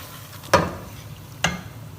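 Chicken seasoned with chaat masala being stirred and fried over high flame for haleem, with two distinct scraping stirs sounding close against a quiet sizzling background.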